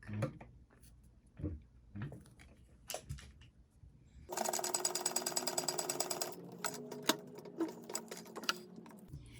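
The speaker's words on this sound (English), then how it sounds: "I'm gonna stitch that" A sewing machine stitching the edge of a small snap pocket on a bug-shaped kids' pack, starting after a few soft handling clicks with a fast, rapid mechanical whir that runs steadily, then slows and stops near the end.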